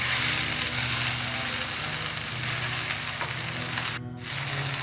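Chopped vegetables and boiled potato fry in a hot pan while being mixed for roti tacos, giving a loud, continuous sizzle with a faint low hum beneath and a brief dip near the end.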